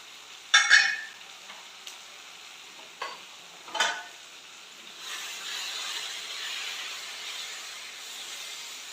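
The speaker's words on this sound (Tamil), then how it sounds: "மசாலாலாம் பச்சை வாசனை போகிற வரைக்கும் நல்லா வதக்கிடலாம்." Masala spices with coriander and chili powder fry in a pan, starting with a few sharp scrapes and clinks of stirring, then settling into a steady, moderate sizzle.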